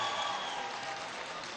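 Crowd at a socialist party congress in Venezuela applauding, a dense continuous roar of clapping that fills the hall, steady and even from start to finish.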